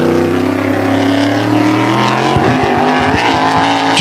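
A Tour-Type modified race car engine at Wall Stadium roars loud and close through a full-throttle qualifying lap, its steady high revving pitch sweeping smoothly upward and then breaking into sharp gear-change bursts near the end.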